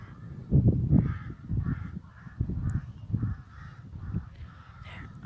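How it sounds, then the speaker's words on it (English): Many crows caw repeatedly at an Irish heritage site, harsh calls coming in irregular bursts at close to moderate range, several birds overlapping with no voices heard. "There are so many crows here."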